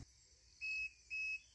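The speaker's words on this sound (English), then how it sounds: "There's that beep." A propane-powered fridge sounds two clear, steady electronic beeps about half a second apart, each lasting roughly a quarter second, over a faint background hiss.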